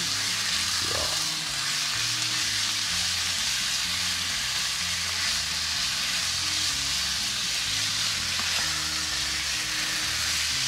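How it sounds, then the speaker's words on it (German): Chicken strips sear in a hot pan with a steady, close, dense sizzle and hiss throughout, along with faint low rumbling underneath. "Das wird alles sehr scharf angebraten"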